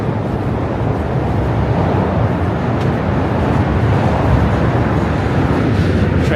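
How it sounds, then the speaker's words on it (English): Trains rumble in Manhattan during a walking commute heading south, a loud continuous broadband roar filling the scene with no pauses, mixed with city noise. "Trains on the far end again."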